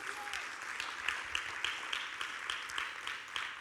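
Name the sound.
congregation applause in church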